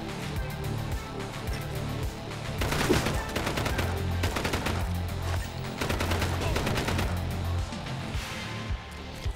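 Rapid gunfire from the top-down video game Mega City Police, dense bursts of shots and explosive blasts over a droning game soundtrack, loud and continuous throughout.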